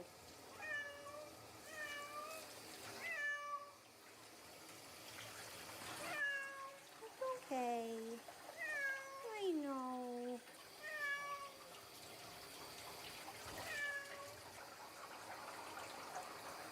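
A cat meows repeatedly in plaintive, rising and falling cries, close by, while a person speaks softly and reassuringly between the calls.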